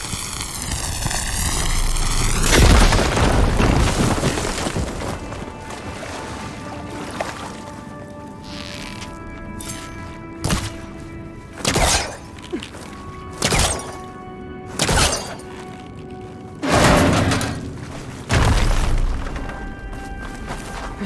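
A big explosion blasting open a blocked tunnel in Horizon Forbidden West, a deep roaring boom followed by a series of thudding debris impacts and crashes over a tonal game soundtrack.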